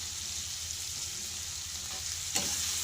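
Spices frying in a pan for a cauliflower curry, a faint steady sizzle with a brief clink or stir near the end.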